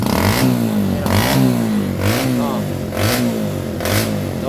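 A Barako 175 motorcycle engine runs unevenly and misfires with its battery disconnected, revving in rhythmic surges about once a second under a steady rumble.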